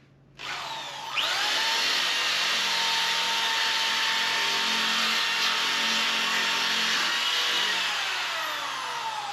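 A power tool spinning a nylon abrasive disc to tidy up welds and strip primer from metal, a continuous loud high-pitched whirring grind that starts abruptly and holds steady for several seconds with no talking.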